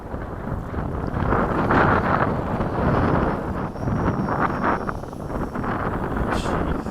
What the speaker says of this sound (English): It is getting really windy all of a sudden